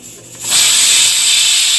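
Ginger and green chilies hit hot oil in a pan for a Kerala-style goat curry, bursting into a loud, steady, close sizzle after a brief quieter moment.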